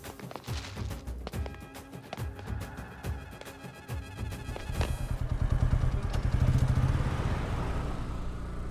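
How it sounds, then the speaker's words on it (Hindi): A motorcycle is kicked several times in rhythmic thumps and clatters, then its engine catches and runs with a loud, steady rumble close by. "बाइक को किक मार"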